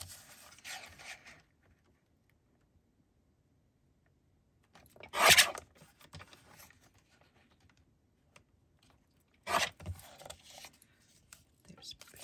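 Scissors cut through craft material for a Rubik's cube embellishment, giving two short crisp snips separated by quiet pauses, with faint handling noise at the start.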